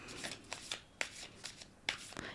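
Tarot cards are shuffled up close, giving soft riffling swishes and several sharp flicks at irregular moments, quiet and with no talk over them.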